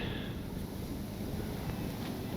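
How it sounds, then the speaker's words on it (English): Gusty wind buffets the microphone in a constant low roar, loud and close, with no voices. "Boy, is it windy."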